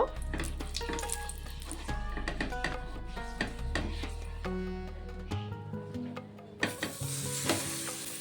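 A rice-flour snack fries in oil in a frying pan over a low flame, giving a steady close sizzle with scattered stirring scrapes and clinks, easing off near the end before a fresh burst of sizzling.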